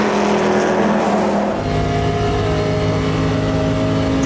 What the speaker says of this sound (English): And there goes the LMP1 car.